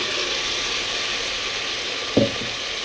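Green peas frying in a pan make a steady, even sizzle throughout, with a single short scrape or stir near the end, close and continuous with no talking.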